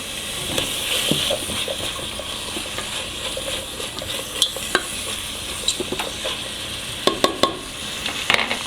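Garlic fries in a pot for cabbage stew, a steady close sizzle under frequent utensil stirs and scrapes, with a few sharp clinks toward the end.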